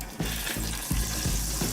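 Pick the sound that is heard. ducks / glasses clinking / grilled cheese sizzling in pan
grilled cheese sizzling in pan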